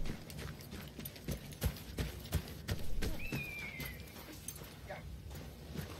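Hooves clip-clop in a quick rhythm under steady ambient noise in Battlefield 1, with a faint whinny partway through.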